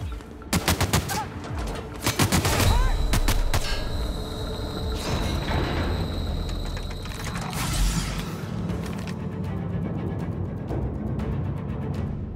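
Gunfire in a firefight in the video game The Outer Worlds, with loud bursts of rapid shots and mechanical clatter at the start, then a sustained dense din of battle and machinery.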